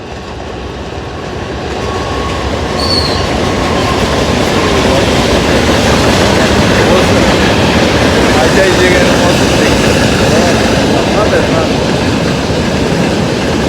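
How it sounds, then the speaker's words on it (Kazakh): A train rolls past close by, a loud continuous rumble and rattle of wheels on track lasting the whole stretch, with a brief faint squeal. "Пойызбен кездесу жатырмыз"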